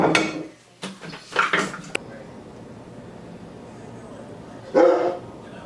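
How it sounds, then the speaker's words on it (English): A dog barks in a few loud, close bursts at the start, goes quiet against a low background, then lets out one more bark near the end. "Dog's gonna bark all night long probably tonight."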